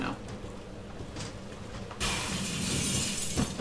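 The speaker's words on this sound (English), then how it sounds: "And you broke through the goddamn glass." Glass shatters loudly in Resident Evil 2, a sudden bright crash that bursts in partway through and keeps ringing with scattering debris over game sounds.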